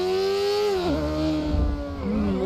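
A BMW S1000RR 2021 sport motorcycle in GTA V revs hard, its engine note steady then dipping and rising again, loud and close with a buzzing harmonic whine and no talk.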